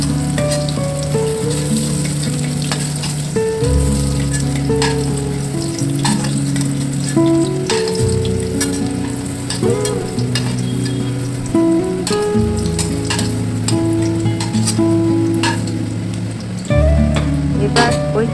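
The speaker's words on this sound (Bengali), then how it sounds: "এবার পনিরগুলোকে উল্টে পাল্টে ভালো করে ভেজে নিতে হবে" Paneer pieces frying in hot oil as they are turned over until browned, giving a steady sizzle and crackle throughout, mixed with background music.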